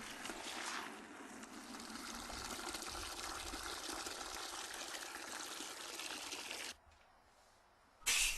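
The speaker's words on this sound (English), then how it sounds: "Fill both buckets with clean water." Clean water gushes steadily into a bucket for car washing for several seconds, then cuts off abruptly, followed by a brief splash near the end.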